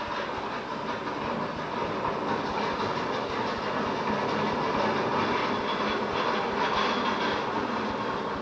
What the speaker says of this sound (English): the train thunders by